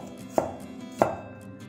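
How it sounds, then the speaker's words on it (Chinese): A knife chopping ginger into slices on a cutting board, two sharp distinct chops about half a second apart, close and clear in a quiet kitchen. "切几块姜片"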